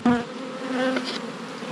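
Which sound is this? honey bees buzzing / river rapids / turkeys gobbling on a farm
honey bees buzzing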